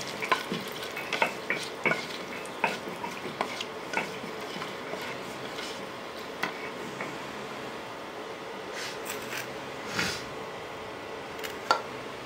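Whole cardamom pods, black peppercorns and bay leaves frying in hot oil in a pan, a soft continuous sizzle broken by scattered scrapes and clinks of a stirring spoon, quiet and close.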